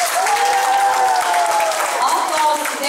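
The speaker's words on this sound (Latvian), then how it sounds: "Aplausi pirmo devīto klasu kori." A crowd at a school Christmas concert applauds a choir of first- to ninth-grade pupils, with steady, dense clapping filling the room at an even loudness and some voices heard beneath it.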